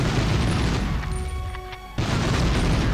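Objects blown up in the Medal of Honor game, a loud crashing explosion that is dense and sustained, dropping into a quieter lull and then bursting back in at full force, with no talking.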